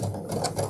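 A sewing machine stitches a backpack strap in a short, close burst of rapid mechanical clatter.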